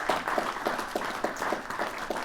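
A crowd at a State of the City address gives Captain Moorfield a round of applause: a continuous wash of many hands clapping at moderate volume, with no speech.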